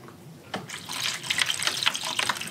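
Water poured carefully into a seedling tray cell for broccoli and cabbage seedlings, a soft trickling and splashing starting abruptly and continuing unevenly, close and fairly quiet.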